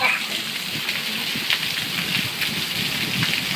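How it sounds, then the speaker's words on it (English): Steady rain falling and pattering on surfaces outdoors, a dense continuous hiss close by with faint voices underneath. "This is rain."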